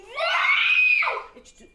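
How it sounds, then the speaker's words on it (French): A six-year-old girl lets out one loud, sustained, high-pitched scream lasting about a second that trails off into a faint breathy end, close and alone. "Et arrête de crier."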